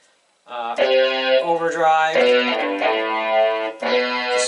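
A distortion guitar voice on a Yamaha PSR-225GM keyboard sounds sustained, buzzy notes and chords, loud and close, with short pauses between phrases.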